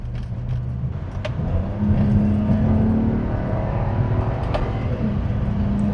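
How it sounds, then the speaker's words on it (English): A BMW E82 128i six-cylinder in sport mode revs from idle, its note climbing and holding higher with a steady mechanical whir, heard close and fairly loud without talk. "let's put it in sport and let's give it a little bit of gas."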